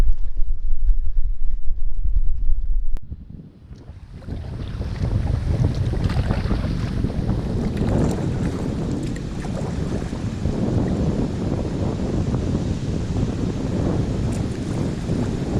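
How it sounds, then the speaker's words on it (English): Wind gusts across the Murray River in South Australia, roaring steadily against the microphone with a rushing, buffeting character, loud and continuous after a brief lull near the start, with faint water lapping beneath. "The wind is starting to come up a bit now, but hoping I'm fairly protected where I am."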